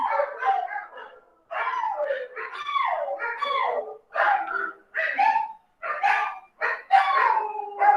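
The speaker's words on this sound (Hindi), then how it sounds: "कुत्ते भी देखना चाहते हैं, वो भी इंटरेस्टेड है देखने के लिए।" Dogs bark, yip and howl near a UTM testing machine, loud close bursts coming in rapid irregular bouts with short silent gaps between them.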